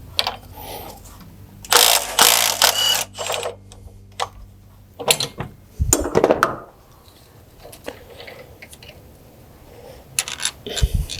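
A ratchet breaking loose the camshaft sprocket bolt on a Hemi engine in a Dodge Challenger, with bursts of rapid clicking and metallic clatter, close and fairly loud, separated by pauses and shop noise.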